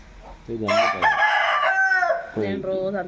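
Close, loud crowing from a village rooster comes in two bursts with a short gap, mixed with hens clucking, the calls breaking and wavering.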